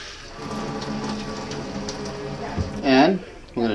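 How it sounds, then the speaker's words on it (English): Steady rushing hot water pours from a kitchen faucet, a continuous hiss that runs throughout, with brief voice-like bursts near the end. "we're going to put the faucet to just as hot as we can"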